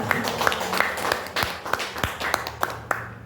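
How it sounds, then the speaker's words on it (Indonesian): An audience at a school event claps for a presenter. The claps are clear, close and fairly even in rhythm, as if a modest group is clapping together, with no talking. "Tepuk tangan untuk Bu Mita"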